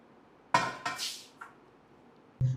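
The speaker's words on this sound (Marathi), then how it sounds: "आणि ही कढई ठेवून टाकू" A metal kadhai is set down on a kitchen surface with a few sharp clanks and a scrape, followed after a pause by one more dull knock, close and fairly loud.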